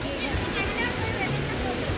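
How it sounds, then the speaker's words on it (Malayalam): A waterfall on the route from Achankovil to Mekkarai in Kollam, Kerala, roaring as a steady broadband rush of falling water throughout, with voices nearby. "അതിൻ്റെ പേരെന്താ വെള്ളച്ചാട്ടത്തിന്?"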